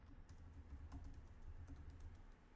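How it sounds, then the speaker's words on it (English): Rapid computer keyboard typing as a search is entered, a fast run of soft key clicks with a few sharper taps, faint and close, over a low rumbling background. "typing Crossroads Crossroads."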